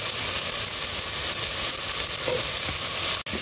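Onion and zucchini fry in a pan with a loud, continuous close-up sizzle and occasional stirring scrapes, ending in a brief sharp clack.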